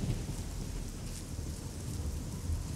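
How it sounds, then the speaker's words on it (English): Heavy, steady rain hisses continuously with a low thundery rumble underneath, a loud stormy wash in the Fallout 3 PC game, with no speech. "One thing I noticed in the live streams is that the rain... is very, very, very loud."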